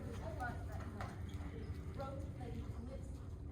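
A horse canters in a riding lesson, its hoofbeats making a rhythmic, muffled clip-clop on the arena footing under steady background noise.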